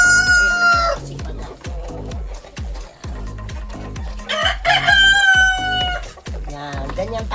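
Backyard chickens and a rooster: a loud rooster crow opens, then clucking follows and a second long crow rises midway, all over a steady rhythmic thumping beat.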